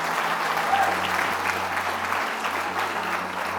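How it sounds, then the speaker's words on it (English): Sustained applause for an award honoree at a food justice community ceremony, steady and dense with many hands clapping at once, filling the room without pause. "Let's give Kathy Soul one more round of applause."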